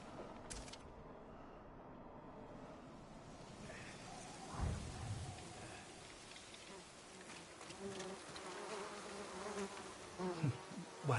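Honeybees buzzing around hives in Ghost of Tsushima, a steady droning hum that persists throughout, with occasional swells, a thud, and game ambience layered over it.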